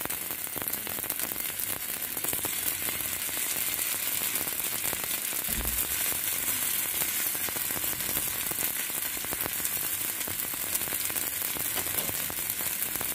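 Aloo thalipittu, a potato and rava flatbread, fries in a pan with a steady, dense crackling sizzle that holds evenly throughout, with no voices over it.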